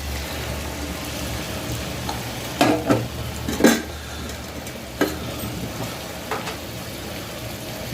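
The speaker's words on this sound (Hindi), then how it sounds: "इसमें पनीर डालेंगे फ्राई करके, हल्का रोस्ट करके" Small pieces of paneer fry and are stirred in a pan for sarson ka saag. A steady sizzle runs throughout, with a few louder stirring scrapes partway through.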